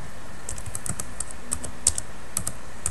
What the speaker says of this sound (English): So we are going to type last edited on,